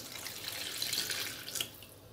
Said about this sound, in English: And the lukewarm water.